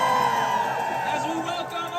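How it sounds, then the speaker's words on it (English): A crowd at an outdoor ceasefire rally in New York City cheers and whoops loudly in a sustained, dense roar of many voices. "So I want to give yourselves a round of applause real quick."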